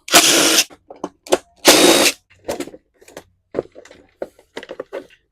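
Bolts being removed from a 2-cycle Lawn Boy mower with a power tool: two loud bursts of driver whirring near the start, then a series of shorter clicks, taps and tool handling sounds, close up.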